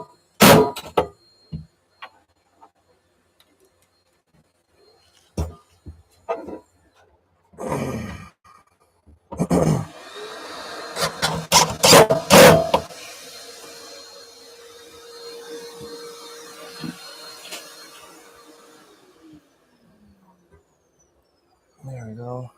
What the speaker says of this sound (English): I'm just going to put 4 screws in here to mount this guy.